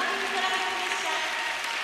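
Audience applause during a standing ovation at a 2011 ice show for a figure skating pair, a steady dense wash of clapping throughout with a faint tonal layer of music or voices underneath.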